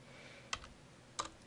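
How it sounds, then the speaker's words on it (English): Two sharp, isolated keystrokes on a computer keyboard while a function is entered in Mathcad, spaced roughly half a second apart over a quiet room background. "I'm simply typing what they had in the solution manual."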